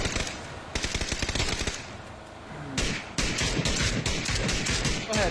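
Rapid automatic gunfire in a shooter video game fighting squads, with loud close bursts of repeated shots separated by brief pauses and then resuming in dense volleys, with occasional voice in the background.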